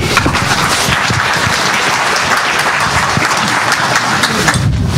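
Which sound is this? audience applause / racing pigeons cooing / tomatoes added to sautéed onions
audience applause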